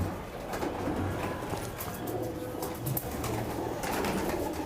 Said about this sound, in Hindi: पंजाबी कबूतर है तो इसलिए आसानी से यहाँ पे बैठ भी गए हैं